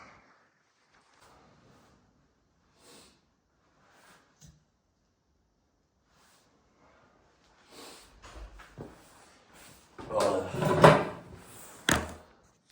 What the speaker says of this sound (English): The door does bang.